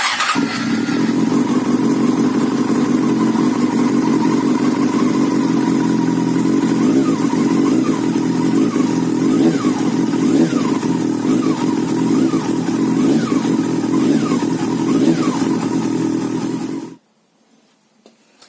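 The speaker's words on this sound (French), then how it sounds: "On met le contact. On va la démarrer ensemble." Motorcycle engine started after an oil change and left running, a steady low idle with slight rhythmic pulsing and faint rising revs, close and loud, ending abruptly when the engine is cut.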